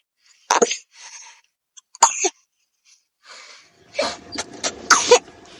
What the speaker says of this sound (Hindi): मेरे बच्चों को दोनों को खांसी हो रही है शदीद।